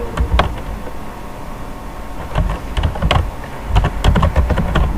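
Keys clatter on a computer keyboard as place names are typed into a Microsoft Word document, with close, irregular bursts of keystrokes coming in clusters and no talking.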